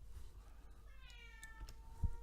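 An agitated indoor cat gives a single drawn-out meow that slides in pitch, fairly faint against a quiet room with no talking.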